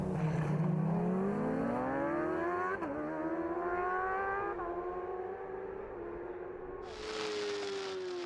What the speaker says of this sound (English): Riding with the outfit in third place, Conrad Harrison and Lee Patterson as they come out of Farm Bends, and they will see the last lap flag